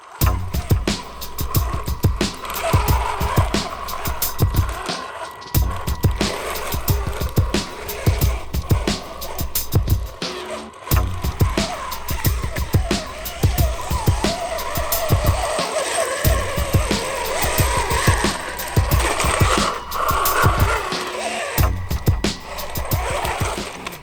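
The small electric motors of a Ripsaw SG 1203 RC tank, one per side, whine and grind loudly over rough ground, with clattering and scraping bursts and brief pauses throughout.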